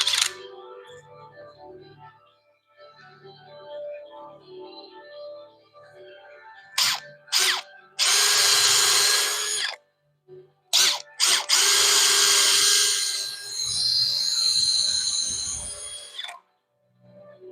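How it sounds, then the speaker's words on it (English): A power drill drives screws into wood on a building site in several loud, close bursts of whirring, some short and some long, separated by pauses with faint background noise and no talk. "Start drilling."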